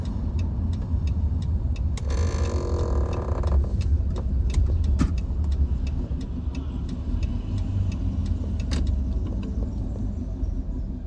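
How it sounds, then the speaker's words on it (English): A car approaching from behind on the Tail of the Dragon, a winding mountain road with 318 curves in 11 miles. Its engine makes a steady, continuous low rumble with road noise throughout, and there is no talk. "I got one car coming up behind me."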